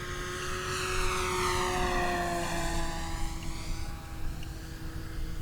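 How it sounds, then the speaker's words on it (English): A Durafly Carbon Arcus 1000mm F3A aerobatic RC biplane flies a rolling circle, its propeller whine rising and falling steadily in pitch as it loops around overhead, moderately loud, with no voices. "I want to do the rolling circle again because I love that maneuver, and this plane does it rather effortlessly."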